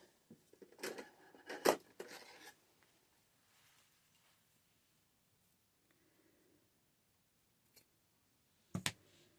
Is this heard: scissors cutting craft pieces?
yes